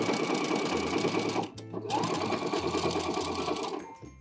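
Sewing machine stitching a DIY Carhartt-style knit beanie along a fold, running steadily and close with a brief pause mid-run before resuming, with no talking.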